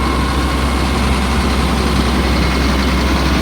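A 2004 Blue Bird All American 72-passenger school bus engine runs on fast idle, a loud, steady, low diesel drone with constant vibration and no voices.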